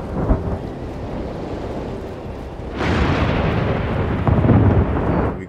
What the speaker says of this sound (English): That is a bad storm.